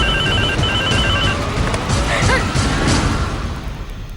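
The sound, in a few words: telephone ringing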